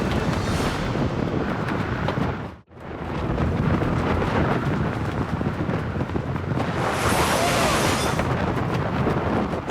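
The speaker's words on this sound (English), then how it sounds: "An unexpected storm has delayed our mission." Violent storm wind roars and buffets a tent pitched on a volcano, a loud continuous battering that cuts out abruptly for a moment before surging back just as hard.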